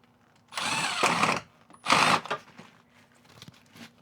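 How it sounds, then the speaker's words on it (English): A power drill drives screws into the floor of a 40-year-old RV under renovation, heard as two close whirring bursts of about a second each, with light handling noise in between. "So I'm gonna go ahead and put some screws into this, put this into here, and then put this into the ground."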